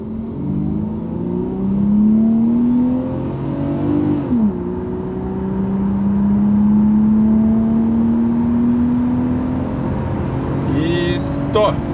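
Toyota Mark II 90 accelerating to 100 km/h, heard from inside the car: the engine climbs steadily through the revs, drops briefly at a gear change and rises again, loud and close, with people talking in the cabin.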